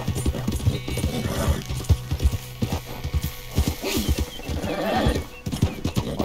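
A horse gallops in Red Dead Redemption 2, its rhythmic clip-clop hoofbeats loud and close with a whinny along the way, and no one speaks.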